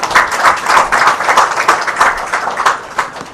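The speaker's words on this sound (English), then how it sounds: "Can we have a big round of applause for Sameer?" A room of listeners gives a speaker a round of applause, loud and close, the quick claps swelling and ebbing in waves for a few seconds.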